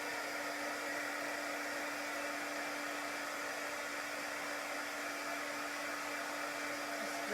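A blower steadily dries chalk paint on a craft project, giving a constant close whirring hum with an even, unbroken airflow hiss throughout and no talk.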